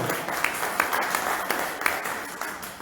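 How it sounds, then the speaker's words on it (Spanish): Church congregation applauding during a Spanish-language worship service, a steady wash of many hands clapping at moderate distance with a few sharper claps standing out, no speech over it. "Denle un aplauso grande si quieren."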